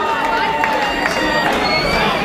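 Crowd at a white collar boxing event in Harrogate applauding and cheering, a dense steady wash of clapping and shouts heard close, with voices in the crowd underneath.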